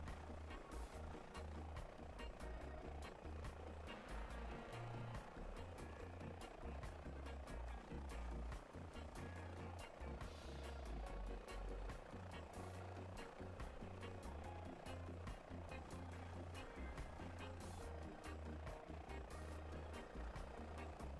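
A helicopter flies in Microsoft Flight Simulator, a faint, steady low rotor and engine drone that continues without a break throughout.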